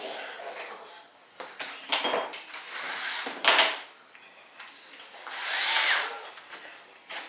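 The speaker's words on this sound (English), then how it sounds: "Now I gotta drill the holes in my bolt holes." Power drill boring bolt holes in an RC jet model of an F-105 Thunderchief, heard in several bursts of whining, grinding drilling with short pauses and handling noise between them.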